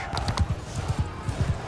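In Mount & Blade II Bannerlord, horse hooves clip-clop in a quick, uneven series of soft thuds at close range with faint background noise.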